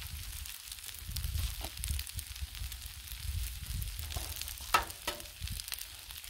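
Two eggs fry on a Blackstone griddle, a soft continuous sizzle and crackle near at hand, with a couple of brief spatula scrapes and no talking.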